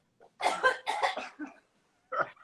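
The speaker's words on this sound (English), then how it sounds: "someone in your audience coughed" An audience member at an art talk coughs several times in short, harsh bursts, then gives one more cough after a brief pause, close and clear with no talk over it.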